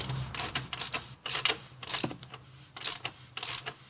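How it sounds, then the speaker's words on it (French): A ratchet wrench with a 22 mm socket tightening a filter, rapid close clicking strokes in repeated bursts, each run of pawl clicks followed by a brief pause. "je vais prendre le cliquet pour aller plus vite. Donc en mode serrage bien sûr."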